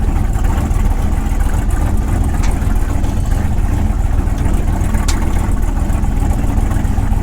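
A car engine idles steadily at a fast, high rumble around 2,000 rpm, loud and close, with a constant droning texture throughout.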